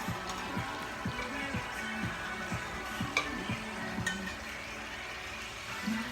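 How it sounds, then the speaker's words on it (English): Pieces of meat and a pork chop frying together in a pan, with a steady soft sizzle and occasional utensil clinks. A voice talks over it. "But that's all the meat frying together."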